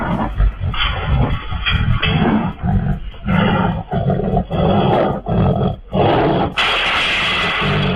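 A wild tiger that appears near a farmer working the land gives loud, close, repeated roars and growls in rough bursts separated by short breaths, with no talking.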